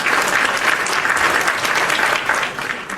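Hand claps as a sound effect, a dense burst of applause-like clapping lasting a few seconds at moderate loudness, with no talk over it.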